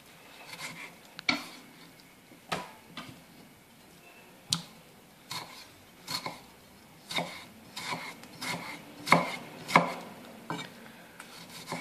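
A knife chops vegetables into small cubes on a board while a quesadilla side dish is prepared, sounding as a dozen or so sharp, irregular close knocks over light kitchen clatter.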